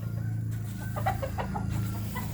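Hen clucking from her nest as she lays eggs on a backyard farm, a few soft, scattered clucks over a steady low hum of the surroundings.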